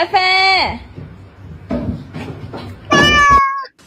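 Cats meow loudly and close by, a long drawn-out yowl followed by short calls and another long meow, with a voice talking between them.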